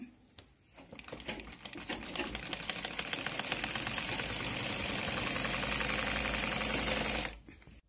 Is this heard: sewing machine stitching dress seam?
yes